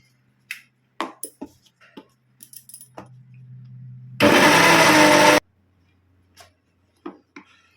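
An electric blender whirs loudly for about a second as it grinds mustard and green chilli with water into paste for a mustard hilsa dish. A few faint clinks and taps come before and after the burst.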